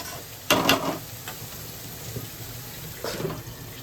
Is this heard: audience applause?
no